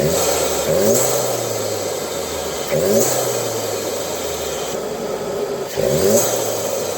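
VW GLI engine fitted with an APR PEX intake, revved three times in quick sweeping bursts that rise and fall back to a steady loud idle between pulls.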